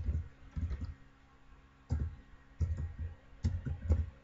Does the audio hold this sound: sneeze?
no